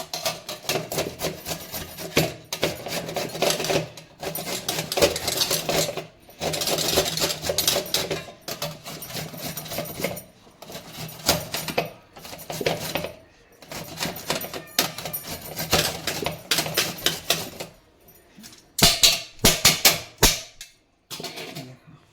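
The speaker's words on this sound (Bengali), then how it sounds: "কেটে বলতে এটা একটুখানি গ্রেট করে দেবো" Ginger being grated for a radish mash, a steady rasping scrape in repeated bursts with brief pauses between strokes, close and fairly loud with no talk.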